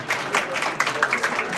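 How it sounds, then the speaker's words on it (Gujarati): Audience at a mobile and electronics store's lucky draw event applauds steadily, a dense wash of many hands clapping close and loud throughout with no voices over it. "તાળીઓ એના માટે દેવી પડે"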